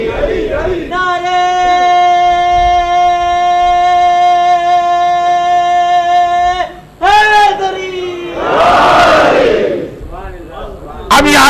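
A large gathering at a Ramadan night religious assembly in Dar es Salaam shouts slogans in unison, a long sustained collective cry followed by shorter chanted calls and a roaring crowd response.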